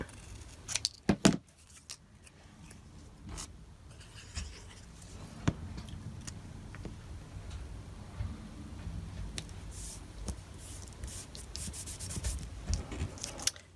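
Card being trimmed for card making: soft rubbing and scraping with scattered small ticks and clicks, a few sharper snaps early on, close and quiet with no voice.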